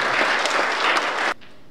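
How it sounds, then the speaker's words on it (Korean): Attendees at a breakfast lecture forum give a round of applause, a full and even burst of many hands clapping that carries on for over a second and then cuts off abruptly into a quiet room. "박수 한번 쳐주시죠"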